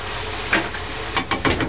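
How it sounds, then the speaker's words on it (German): A spoon scrapes and stirs food with harissa spice paste in a pan over low sizzling frying, with a few short scraping strokes near the end, close and with no speech. "Nochmal gut umrühren."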